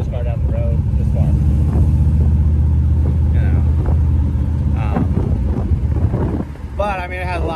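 A 1957 Chevy wagon, pulled from a barn, drives down a road: a steady low engine drone with rushing wind noise, while people talk loosely over it throughout.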